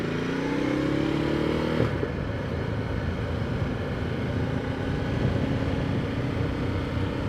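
A large adventure motorcycle, a Ducati Multistrada 1260S or KTM 1290 Adventure S, riding at a steady, low, rumbling drone with one brief clatter, with no talking.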